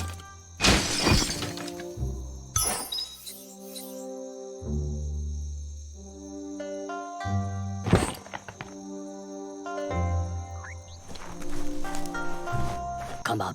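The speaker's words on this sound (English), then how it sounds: "You shouldn't worry about smashing up the box" A crate being smashed apart in the action RPG Biomutant, with sharp breaking crashes near the start and again around the middle, set among layered game music and ambient tones.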